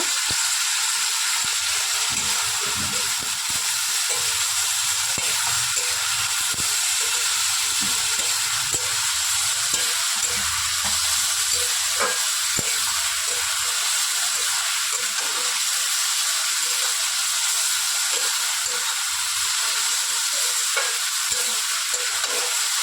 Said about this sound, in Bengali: ভালোভাবে নেড়ে চেড়ে ভেজে নিতে হবে পটলটাকে